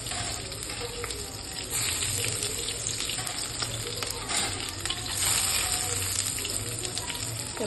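Cashews and chillies fry in hot oil with mustard seeds for a South Indian breakfast, a steady, fairly loud sizzle that runs without a break alongside faint stirring, with no voice heard.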